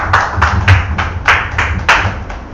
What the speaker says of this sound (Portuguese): Pode bater as palmas bem alegre para Jesus